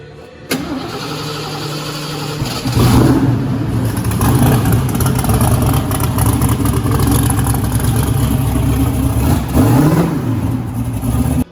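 A race car built for Rocky Mountain Race Week cranks and fires up, then runs with a deep, loud, rough idle and a couple of blips of revving, close by, no talking.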